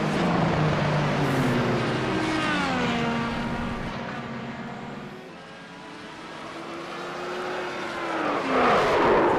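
IndyCar race cars drone around the Indianapolis oval in iRacing, a loud engine whine whose pitch rises and falls as cars pass close, fading briefly midway before swelling again.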